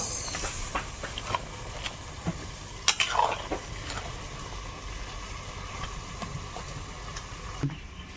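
Fried fish stirred into a boiling taro curry in a pot, with soft scraping and clinks of a spoon against the pan over a low steady simmer and faint sizzle, no talking.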